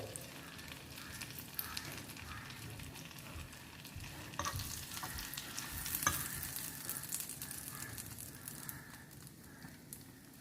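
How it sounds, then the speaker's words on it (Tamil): Bread slices shallow frying in butter or ghee give a steady, soft sizzle with faint crackles and a few brief scrapes, close by and without speech. "இதில் வந்து நம்ம இந்த பிரெட் ஸ்லைசஸ் எல்லாத்தையும் இதில் ப்ளேஸ் பண்ணிக்கலாம்."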